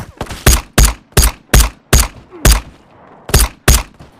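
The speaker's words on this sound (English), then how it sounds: "So all of those shots hit him, and... I can't kill him with the 1911 with 45 ACP" A 1911 pistol chambered in .45 ACP fires in the video game Ghost of Tabor, eight sharp, loud shots in quick succession with a short gap before the last two, each with a brief ringing tail.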